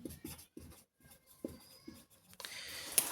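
A pen scratches across paper while a math formula is written out, short strokes in an irregular rhythm, close and fairly faint, ending with a brighter rustle.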